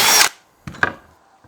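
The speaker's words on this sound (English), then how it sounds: "Take a drill bit slightly smaller than the hole you want." A power drill drives a bit into a wooden charcuterie board blank, giving one loud whining burst, a pause, then two shorter grinding bursts that trail off.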